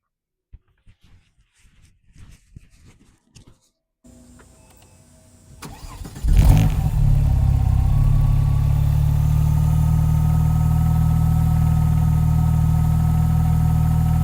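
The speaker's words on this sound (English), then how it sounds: "We'll have a listen to the engine and get into the details of this 2001 Porsche 911 Turbo" Faint clicks and shuffling, then a somewhat warm 2001 Porsche 911 Turbo coupe engine cranks and catches with a loud roar before settling into a steady, deep idle close by.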